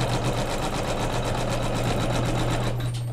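An embroidery sewing machine stitches continuously as it tacks down fabric along the left and right borders of a flange-quilted pillow, giving a steady, close, rapid mechanical whir with a fast needle rhythm and no talking.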